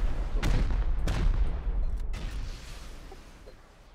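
Rocket blasts and gunshots in a video game, two or three loud booming shots in the first half, then a fading rumble with a few distant pops, no voices.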